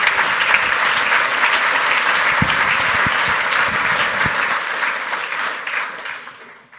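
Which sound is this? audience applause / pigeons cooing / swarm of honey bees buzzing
audience applause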